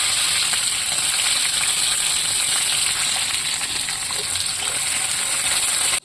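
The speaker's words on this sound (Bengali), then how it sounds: "এখন ভেজে নিচ্ছি 5 রকম সবজির মধ্যে বিনস আর গাজর" Green beans and carrots fry in hot oil that had some water in it, giving a loud, continuous close-up sizzle with no voices.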